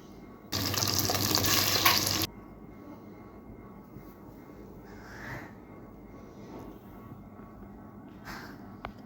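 Chicken pieces hit hot oil with a sudden loud sizzle lasting under two seconds, then the frying settles to a faint low crackle with small clinks.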